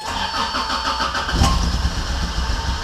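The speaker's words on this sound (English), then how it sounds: "Starter sticks sometimes, there we go." Toyota AE86 starter cranking, then the engine catching and settling into a rough, lumpy idle, close by with no voices over it.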